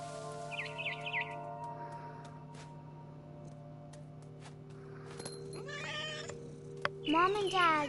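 A cat meows in a series of rising, wavering cries in the video game What Remains of Edith Finch, over a steady low ambient hum, with a brief earlier chirp.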